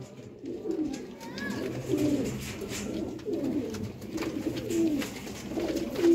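A breeder pair of Kasuri and Sialkoti pigeons coo close by in repeated rolling, throaty phrases, continuous and moderately loud over a faint background murmur.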